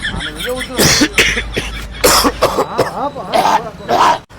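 A person coughs hard several times in a row, loud and close, with short raspy throat-clearing bursts between the coughs.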